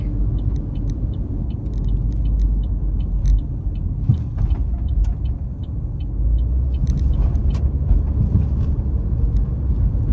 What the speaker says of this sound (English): So here's just a little bit of driving into the town of Reddick.